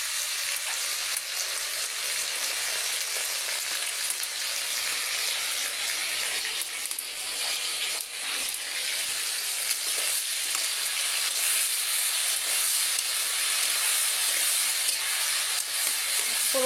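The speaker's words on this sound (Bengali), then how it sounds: "আমি এই যে মিষ্টি গুঁড়ো শাকের ভিতরে দেওয়ার জন্য পটলটা ভেজে নিচ্ছি" Pointed gourd (potol) pieces frying in hot oil, a steady close sizzle and hiss running unbroken throughout with no voices.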